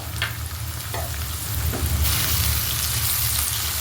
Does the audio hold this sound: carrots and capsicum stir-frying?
yes